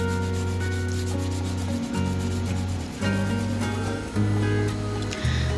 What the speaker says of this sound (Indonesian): Jadi ini saya parut saja seperti ini menggunakan parutan kelapa ya.